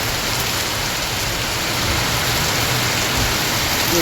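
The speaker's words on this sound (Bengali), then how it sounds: "বাবা কী জোরে হচ্ছে বৃষ্টি" Heavy rain pours down in Malaysia as a storm picks up, a dense, loud, unbroken hiss of drops hitting surfaces for the whole stretch.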